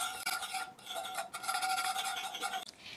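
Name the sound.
whisk stirring melting butter in a pan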